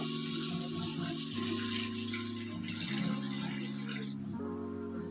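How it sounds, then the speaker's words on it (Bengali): Water being poured into a pan of fish curry, heard as a steady splashing rush that runs for several seconds and then eases off, with a low tonal hum underneath. "এবার আমি এর মধ্যে জল দিয়ে দেবো"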